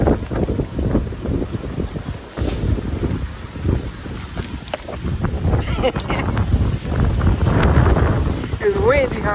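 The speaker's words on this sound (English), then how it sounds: "It's windy, huh?" Gusty wind buffets the microphone with loud, rumbling blasts at Black Acres in The Gambia during stormy weather, while people talk beneath the noise.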